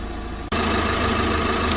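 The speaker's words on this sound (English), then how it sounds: "the engine has now been running, and we are now at full engine temperature" A car engine runs steadily at idle while charging lithium leisure batteries. It starts as a quieter hum, then after a brief dip settles into a louder, constant drone close by, with no voices.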